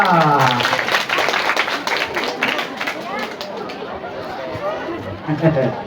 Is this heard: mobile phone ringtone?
no